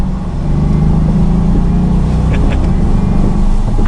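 A 2021 Chevrolet Corvette Stingray C8 convertible in track mode idles loudly with its active exhaust open, a deep steady burble close to the microphone with slight rises in engine note.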